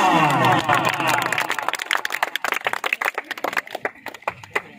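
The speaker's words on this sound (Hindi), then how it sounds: "यासर ऑफ मछियाना, जोरदार तालियां।" Audience clapping for the captain of the Machiana volleyball club team: a loud, dense burst of applause that thins into scattered, uneven claps over several seconds, with voices murmuring in the crowd.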